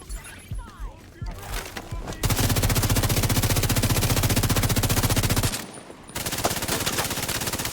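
An AR rifle in The Division 2 fires sustained rapid automatic bursts, loud and close. A short pause breaks the firing before it starts again, with scattered combat sounds and voices underneath.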